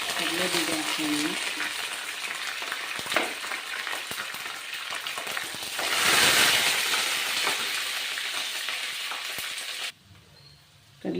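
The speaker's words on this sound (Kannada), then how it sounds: "ಕಡಲೆಬೀಜ ಹಾಕ್ತಾಯಿದ್ದೀನಿ." Peanuts sizzle and crackle steadily in hot oil in a pan with mustard seeds and curry leaves, a dense close frying hiss with occasional stirring clatter, ending in a brief quieter moment.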